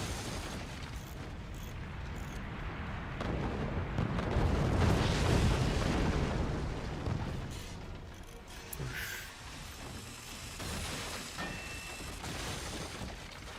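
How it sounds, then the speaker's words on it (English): Missiles explode in the real-time strategy game Forts as a dense, rumbling wash of booms and bursts that swells to a loud peak midway and then settles into fainter crackling blasts. "Here comes the missiles."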